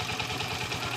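A repaired motorcycle engine, formerly noisy, idling now in a quieter state, a steady low thrumming pulse close by, brief and even, without talk.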